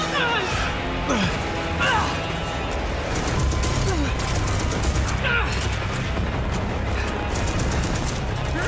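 Rapid bursts of gunfire and booms in a busy Rage 2 battle, shots crackling repeatedly over a constant rumbling background with scattered voices.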